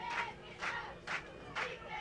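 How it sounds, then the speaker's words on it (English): Spectators at a 2014 Kansas 8-man Division 1 all-star football game cheer from the near-side stands in rhythmic, chant-like surges roughly every half second, moderately distant and fairly faint. "we got some cheering going on over here on the near side"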